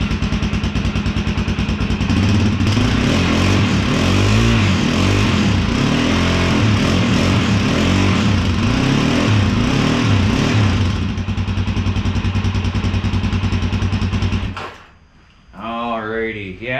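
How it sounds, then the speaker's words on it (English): A Suzuki DR-Z400SM motorcycle fitted with a Yoshimura RS2 exhaust cold-starts and runs loud and close for about twelve seconds with a steady burbling idle, then cuts out abruptly. A voice follows briefly. "So this will be a cold start, so we might get a little burbling and stalling."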